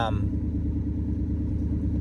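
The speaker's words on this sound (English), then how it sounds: "Like you can tell right now the way it's sitting here, it's idling really high, and it's warm." A warm pickup truck, originally a five-speed, idles high and steady with a fast, even engine rumble up close, running alone throughout.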